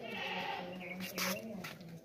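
Boer goats bleat at a farm sale, with wavering cries under a steady, noisy background and a brief louder burst midway.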